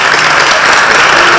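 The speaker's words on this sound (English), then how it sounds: "John, round of applause for UMass Dummy Institute" Loud, dense audience applause at a chamber of commerce annual meeting, continuous clapping from a room full of people throughout the short burst.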